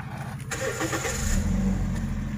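A 2011 Toyota Yaris 1.5 S automatic starts up: a short starter crank followed by the engine catching and settling into a steady, close idle rumble.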